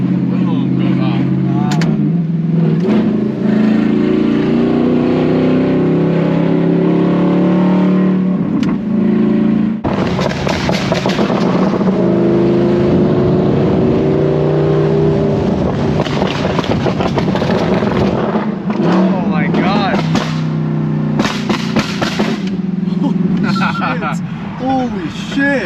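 A 2009 Audi R8 with a gated manual rumbles and revs loudly at close range as it comes off the throttle, with a sharp exhaust pop bursting out partway through.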